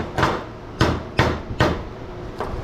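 Tapping on an HID light ballast knocks dust loose while scrapping: four or five sharp, close knocks spaced about half a second apart, each with a short metallic ring.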